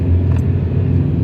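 Road traffic on a residential cut-through street, a steady close rumble of car engines and tyres passing continuously with no talking.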